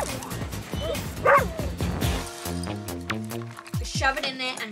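A pet dog yips, barks and whimpers up close in a comedy scene, the short bursts mixed with people talking, then music comes in.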